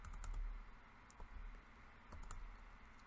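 Laptop keyboard keys are typed in short, quiet bursts of clicks with brief pauses between them, close up, no one speaking.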